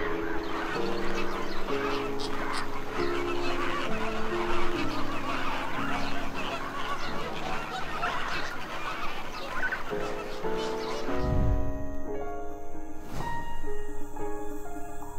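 A flock of flamingos calls steadily at a lake edge during mating season, a dense continuous honking chorus with overlapping goose-like cries, close and loud, with a brief lower thump near the end.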